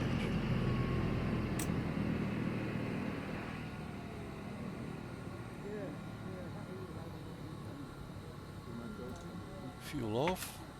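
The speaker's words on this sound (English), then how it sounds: "And shut down the engine." A Beech B36 Baron's engine in Microsoft Flight Simulator 2024 winds down from a loud steady drone to a lower fading hum after landing at Nagasaki, with a voice speaking over it and a brief whine near the end.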